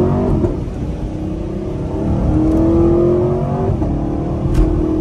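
A 10-speed Chevrolet Camaro accelerating hard and breaking traction, its engine note rising and sustained loud and close from inside the car, with a steady whir as the revs climb.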